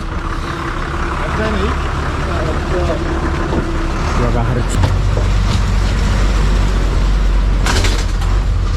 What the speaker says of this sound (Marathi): आपल्या गावात जाणारी गाडी आलेली आहे ही बस जी आहे ती डायरेक्ट जाते आपल्या वाडीत